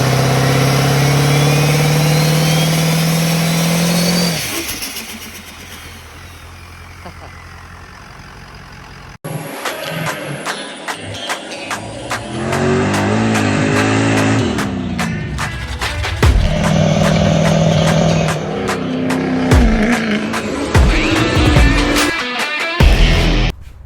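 A 6.0 Powerstroke diesel race truck with compound turbos drones, then drops away before loud revving bursts and turbo whistle break out up close, with brief talk in between.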